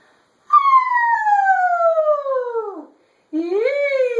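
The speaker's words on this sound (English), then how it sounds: "It's called a vocal yell. Some people call it a siren." A voice slides in a long descending siren-like tone, breaks off, then starts another rising glide; close, loud and sustained.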